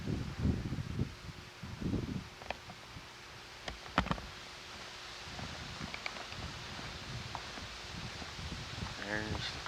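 Wind gusting in Alaska's mountains under low cloud on a cold day, a steady breathy rush with rumbling buffets against the microphone and scattered faint knocks and clicks.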